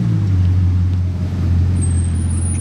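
A Ferrari 12Cilindri sports car engine idles and rolls nearby with a deep, steady rumble, loud and close throughout.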